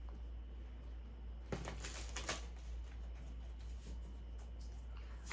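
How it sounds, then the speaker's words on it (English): Tarot cards are shuffled by hand in quiet indoor surroundings, giving a few quick papery riffles and flutters in the middle, with soft card taps and rustles after them and a low steady hum underneath. "I'm going to do one more shuffle."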